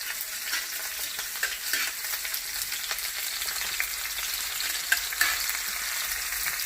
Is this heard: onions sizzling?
yes